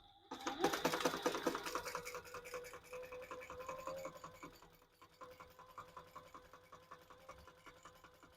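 Sewing machine top stitching a crossbody bag's fabric an eighth of an inch from the edge, a rapid even mechanical chatter, loudest early on, then slowing and quieter with steady ticking.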